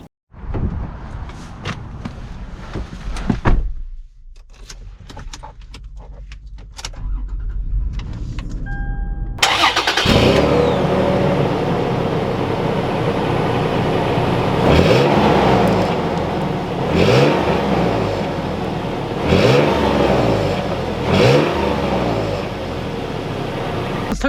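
A Toyota 4Runner TRD Pro starts up and pulls away, its engine revving and accelerating through repeated rises in pitch over steady road and cabin noise, after quieter clicks and mechanical sounds at the start.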